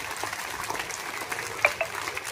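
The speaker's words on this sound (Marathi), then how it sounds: "जोरात टाळ्या वाजवायच्या" A group of schoolgirls at Sainath Vidyalaya in Shirdi claps together, a dense burst of rapid, overlapping hand claps heard from a short distance at modest loudness for about two seconds.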